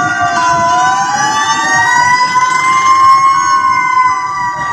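A fire truck siren wails continuously at a building fire in Divisoria, Tondo, Manila, its rising and falling tones loud and close, with rumbling engine noise underneath.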